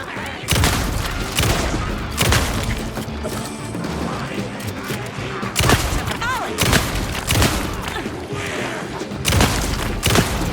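Gunfire in the video game Alan Wake 2's Night Springs episode, loud repeated bursts of shots and booms in uneven volleys with mechanical clicks between them.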